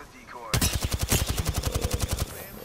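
Automatic gunfire in the video game Apex Legends: a loud, rapid string of about twenty evenly spaced shots that bursts in after a brief quiet moment and stops abruptly, leaving faint background ambience.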